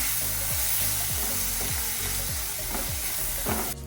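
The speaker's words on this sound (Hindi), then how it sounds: "इसको अच्छी तरह मिक्स कर लेते हैं।" A pan of chilli creamy mushrooms with Amul cream is stirred, giving soft scraping and a gentle sizzle over a few seconds, mixed with background music.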